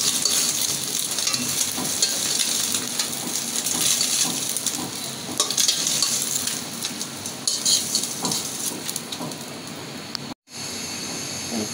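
Eggs fry in a pan with a dense, constant sizzle and crackle up close, broken briefly near the end by a sharp gap, with no talking.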